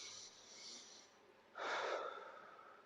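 Quiet breathing during a yoga stretch: a soft inhale followed by a stronger, breathy exhale, close but faint.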